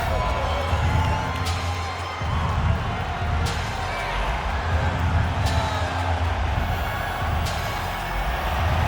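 A capacity arena crowd in the UFC 5 fighting game, a steady, broad roar of cheering under a commentator's continuous play-by-play.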